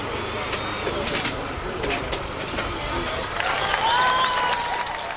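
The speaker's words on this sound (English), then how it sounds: "To the applause of his mechanics, Mäkinen arrives at service" Rally mechanics clap and cheer at a World Rally Championship service park as Mäkinen arrives after his Finland win, scattered applause mixed with engine noise, outdoor crowd bustle and occasional chirps, with a voice talking over it.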